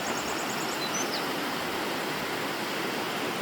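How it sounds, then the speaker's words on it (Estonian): Water pouring out from under a large rock in a Tatra mountain valley, a steady loud rushing wash that fills the whole clip with no talk. "Vaata, see suure kalju alt tuleb siuke vesi."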